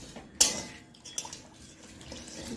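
Water poured into roasted semolina in a pan while preparing sweet potato pitha: a sharp clatter, then a brief splash and trickle nearby, with a light utensil clink and a soft watery wash.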